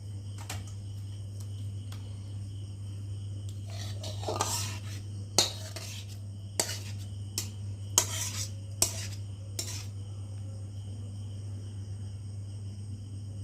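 Dalia khichdi is poured and served with metal utensils: a series of close clinks and scrapes of spoon on pot and plate, irregular and spaced out over a steady low hum.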